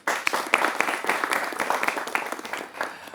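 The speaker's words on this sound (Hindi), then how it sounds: "आपके लिए भी तालियां होनी चाहिए।" A studio audience at a televised Hindi debate on voting applauds: dense, steady clapping from many hands, fairly near and sustained for a few seconds before easing off slightly, with no voices over it.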